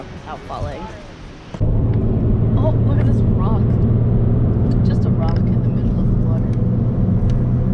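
Car driving with a steady low engine and road drone that starts abruptly and then holds constant, while people talk over it.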